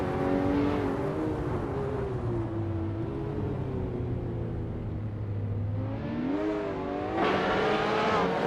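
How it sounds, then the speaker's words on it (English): A 2015 W Motors Lycan Hypersport in a racing video game holds a steady, close engine drone that dips as it shifts through gears and then revs back up, with no voices. "Wolf of Aco is driving a 2015 W Motors Lycan Hypersport."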